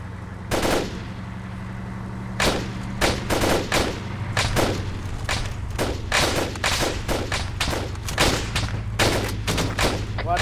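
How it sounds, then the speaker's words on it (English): Gunfire in ArmA 3 rings out as a long run of loud, sharp cracks, some single and some in quick bursts, spread unevenly across the clip over a low engine-like hum. "I'm hearing fire from the left"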